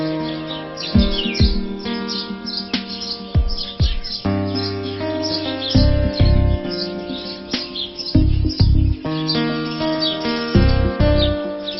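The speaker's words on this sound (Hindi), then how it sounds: "गौरैया की ये चहचहाहट" House sparrows chirping close by in a dense, continuous chatter of overlapping bright tweets and squawky calls, with no voices.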